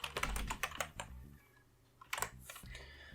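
Typing on a computer keyboard to name a new project in video editing software, a quick burst of close clicking keystrokes, a short pause, then a few more taps, quiet and without talk.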